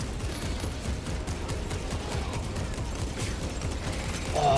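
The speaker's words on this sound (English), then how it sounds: "Oh, the sound of the bolt rifle. I love it." Rapid bolt rifle fire in the video game Space Marine 2, a dense, steady stream of punchy shots with mechanical clatter, loud and continuous throughout.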